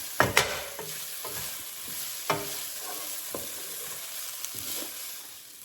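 Collard greens sauté in a pan with a soft, steady sizzle, broken by several sharp stirring scrapes and clatters, close up and fairly quiet, with no voices.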